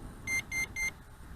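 Three evenly spaced electronic beeps from the remote control of a JJRC X7 GPS brushless drone, clear and close, with quiet background hiss after.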